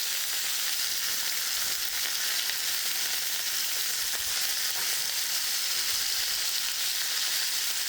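Lamb loin chops sear in a hot pan, giving a steady, loud, close sizzle and crackle that holds without a break for the whole stretch, with no voices over it.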